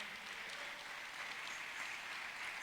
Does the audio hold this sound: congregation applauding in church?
yes